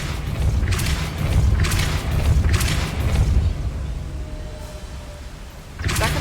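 Depulso spell effects boom repeatedly in the Hogwarts Legacy video game, four heavy whooshing thuds in a row, each followed by a hissing tail. A quieter stretch follows, then one more blast at the end.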